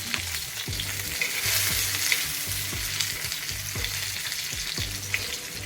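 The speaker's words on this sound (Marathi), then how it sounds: "मी आता झाकण काढून पुन्हा एकदा पलटी करते" Stuffed green chillies fry in oil in an open pan, giving a continuous close sizzle with low repeated knocks and scrapes as they are turned; no one speaks.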